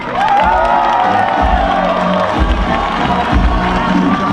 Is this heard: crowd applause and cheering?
yes